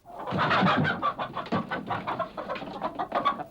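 Hens cluck in a farmyard in a busy, close series of short calls, overlapping and irregular, with a few louder squawks standing out and no talk.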